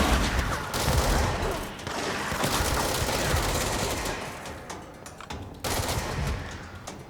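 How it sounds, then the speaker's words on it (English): Sustained automatic gunfire from shooting in the video game Alan Wake's American Nightmare, loud and continuous with short pauses between bursts. "I don't understand why I'm even shooting"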